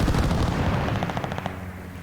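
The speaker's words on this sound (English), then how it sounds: "Now here comes a strafing run." Strafing-run gunfire in the video game Call of Duty: Vanguard, a dense, loud burst of rapid machine-gun fire rattling continuously for about two seconds before slightly thinning out.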